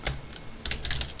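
Keystrokes on a computer keyboard while Java code is entered, a few close, crisp clicks in two short bursts separated by a brief pause, with no talking.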